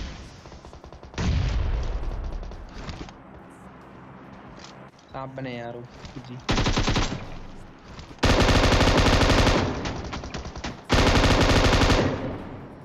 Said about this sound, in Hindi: अब देखो मेरी M249 में 60 गोली पड़ी है, रिलोड करने की कोई जरूरत ही नहीं है।